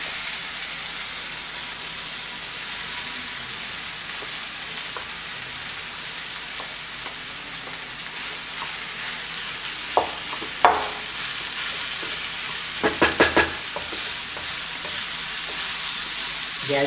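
Rice is added to a hot frying pan for corn and capsicum pulao, sizzling steadily throughout, with a few sharp clinks and scrapes of stirring near the end.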